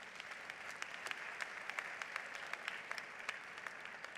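A crowd at a university Founders' Day and honors convocation applauds first-generation college graduates, a steady, even wash of clapping with distinct individual claps popping out, heard alone at moderate distance.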